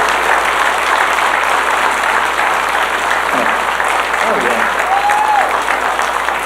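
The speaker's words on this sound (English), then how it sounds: "can you give him another round of applause?" At a celebration of life in Garden Grove, California, an audience keeps up dense, sustained applause mixed with crowd noise, with a voice briefly audible near the end.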